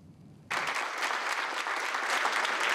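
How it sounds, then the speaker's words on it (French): Areva employees gathered in a company hall break into applause after a brief quiet moment, the clapping swelling into a dense, sustained round. "Des applaudissements,"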